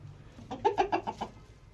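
A quick series of about five clucks from Ameraucana chickens, close and fairly soft, over a low background hum.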